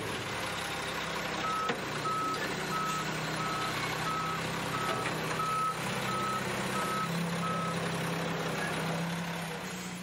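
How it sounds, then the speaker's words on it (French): A garbage truck reverses on a street, its steady beeper repeating evenly about every half second over a constant low engine rumble, close and clear with no talk. "Des camions poubelles qui ramassent des sacs opaques pour les débarrasser le plus rapidement de nos rues"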